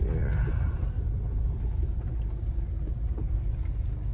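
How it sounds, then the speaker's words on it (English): A lifted Subaru driving over a rough, rutted dirt road in the mountains, a steady low rumble heard from inside the car with faint bumps and rattles throughout. "Glad I'm driving the lifted Subaru today"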